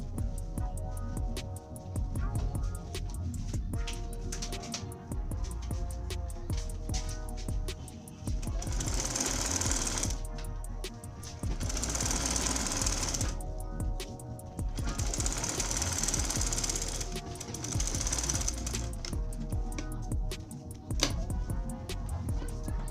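Sewing machine stitching down a sleeve on a senator top, running in loud rapid bursts with brief pauses between runs, a steady mechanical clatter throughout with no talking.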